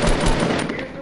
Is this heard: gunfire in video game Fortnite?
yes